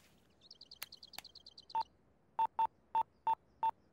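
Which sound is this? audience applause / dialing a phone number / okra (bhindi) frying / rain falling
dialing a phone number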